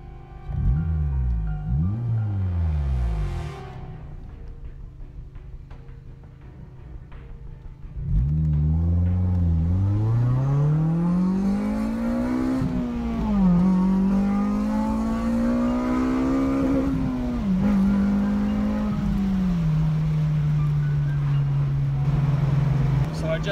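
An 8th gen Honda Civic Si with ram air intake, throttle body spacer and cat-back exhaust revs, then accelerates hard from a stop, engine note climbing through several gear changes, loud and close with a voice talking over it.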